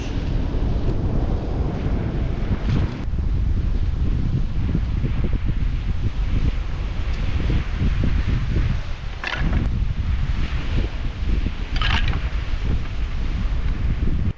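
Strong wind roars steadily against a caravan, a dense, rumbling buffeting that never lets up, with occasional rattles and gusts rising above the constant blow.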